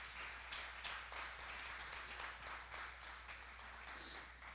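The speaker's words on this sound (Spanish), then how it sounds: "Dale un aplauso al Señor." A church congregation applauding during a bilingual Spanish–English sermon, a dense and even wash of many hands clapping that holds steady, sounding somewhat distant with a low hum beneath.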